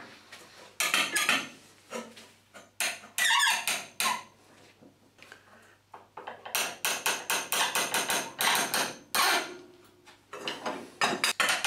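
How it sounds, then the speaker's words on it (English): Two large spanners overtighten a plumbing compression fitting, crushing the olive and rounding the nut, giving close bursts of metallic creaks, squeaks and grinding clicks separated by short pauses. "I'm now going to tighten this up using a couple of larger spanners"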